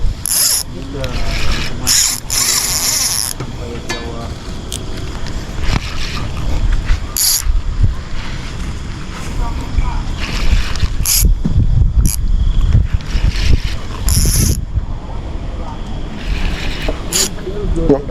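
A spinning fishing reel, size 3000, lets out line in bursts of rapid ratcheting drag clicks while a patin fish is fought at a fishing pond. The clicking comes in repeated surges, loud and close, over splashing water and wind, with voices talking throughout.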